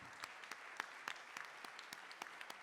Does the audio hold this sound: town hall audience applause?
yes